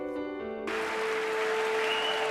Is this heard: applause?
yes